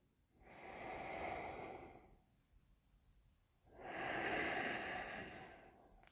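Two slow, deep breaths during a yoga class, each a soft, airy rush lasting about two seconds with a quiet pause between, close and gentle, with no talking.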